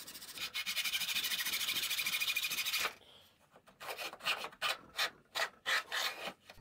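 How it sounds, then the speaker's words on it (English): Hand plane rasping along the edge of a wooden board while shaping thin strips for bedside table beads: a long continuous stroke, then a run of short, rhythmic scraping passes, close and alone. "I planed one edge straight and sawed off a thin slice, then planed it flat again"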